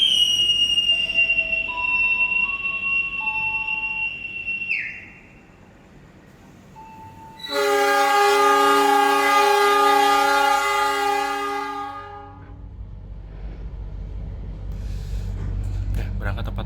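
A KA Tambahan Imperial train departs Yogyakarta Tugu station, with tonal station chimes, then a long loud blast of the train horn, followed by the low rumble of the train getting under way.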